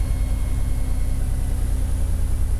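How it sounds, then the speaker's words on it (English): A 1987–1991 Chevrolet Suburban truck engine runs at a steady idle, a loud, even low rumble with a constant drone and no speech. "fire up the truck"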